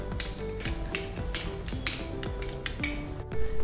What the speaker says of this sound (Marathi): त्यात हे 2 चमचे मेयोनीज घालायचे आणि हे व्यवस्थित मिक्स करून घेऊया